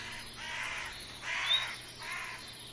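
A crow caws three times in a game world, each harsh call spaced about a second apart over steady faint background ambience, with no talking.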